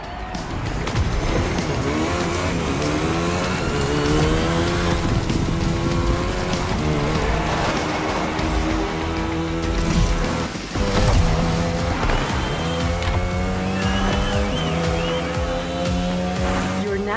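Ducati Panigale motorcycle ridden hard in the racing game The Crew Motorfest, its engine whining continuously through rising and falling gear changes, loud and close, with brief tire squeal mixed in and no one talking.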